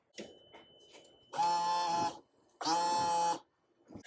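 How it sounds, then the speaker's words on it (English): On a Toyota FZJ80 Land Cruiser, the windshield washer pump whirs in two bursts of under a second each, a close electric whine with small clicks around them. "As you heard, the pump turned on"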